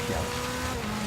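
A rally car driven in Forza Horizon 3, all-wheel drive with about 330 horsepower and weighing 2,400 pounds, gives a steady engine drone with a faint tire hiss, unbroken and fairly loud, with no talking.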